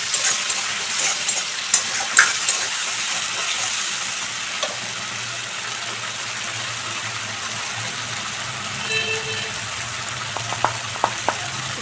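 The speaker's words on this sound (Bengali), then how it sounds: "সব কিছু মশলা ভালো করে কষিয়ে নেব।" Spice paste with garlic and green chilli sizzles steadily in hot oil in a pan for a Bengali prawn malai curry. The frying hiss is loud and continuous, with a few faint clinks of stirring.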